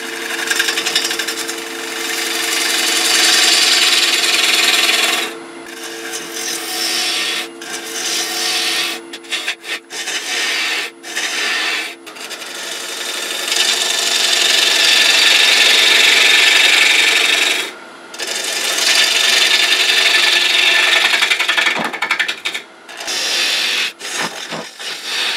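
A wood lathe spins at about 700 rpm while a tool cuts a green Bradford pear bowl, giving a loud, sustained rasping scrape broken by brief gaps where the cut lifts off the wood.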